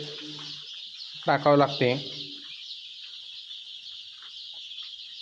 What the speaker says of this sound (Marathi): हे साडेतीन हजार पक्षी असून या दोन्ही कप्प्यामध्ये साडेसतराशे पक्षी आहेत